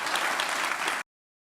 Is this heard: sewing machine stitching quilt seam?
no